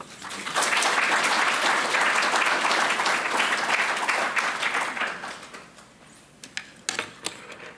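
An audience applauds to welcome artist Julie Gough at a talk, sustained full clapping that swells quickly, holds, then thins out into a few scattered claps.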